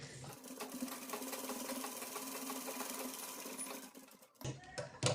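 A sewing machine runs a continuous, close, whirring stitch for about four seconds, sewing cloth folded over a cord, then stops with a few handling knocks.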